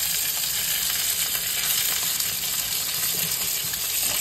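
Tomato sauce with a little salt and sugar bubbles and sizzles in a pan, a steady close hiss and crackle that stays even throughout with no speech over it.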